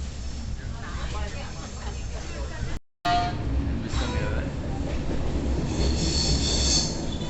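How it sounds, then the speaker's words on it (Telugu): A train on the line to Araku rolls around a curve with grinding wheels and high metallic squeals rising toward the end, loud and continuous, a short gap early on. "ట్రైన్ తిరుగుతున్నది"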